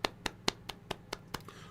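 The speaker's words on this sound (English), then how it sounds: "clap hand for the Dance Monkeys" A small audience claps for the Dance Monkeys: seven sharp, evenly spaced hand claps, close and distinct, with short silent gaps between them.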